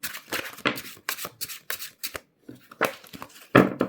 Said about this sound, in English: we're going to do one more shuffle here. Get them all mixed up in there.